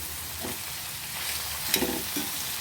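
Curry leaves frying in oil in a pan for a bitter gourd and onion stew, a steady soft sizzle with a few brief crackles and spits, close and moderately quiet.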